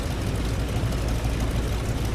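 Steady low engine drone of a Yak-52 aircraft in the DCS flight simulator game, a continuous loud rumble with no pauses and no talking.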